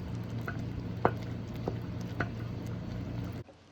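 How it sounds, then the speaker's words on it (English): White bean stew is stirred and mashed in a pot, making soft scraping and a few sharp spoon knocks over a low, steady bubbling simmer, until the sound cuts off abruptly. "I'm just going to give this a stir and do some mashing while I'm at it"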